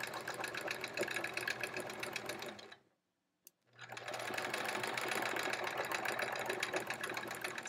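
A sewing machine stitches steadily at a fast, even pace during free-motion quilting, pausing briefly with a small click before resuming its close, continuous mechanical whir.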